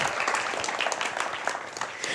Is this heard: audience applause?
yes